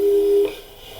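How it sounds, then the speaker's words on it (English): A telephone call tone in the Portal 2 video game: one steady electronic beep held for about half a second, then cut off, leaving a faint hum. "Tell you what, let's give your parents a call."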